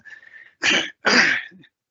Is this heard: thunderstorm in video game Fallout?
no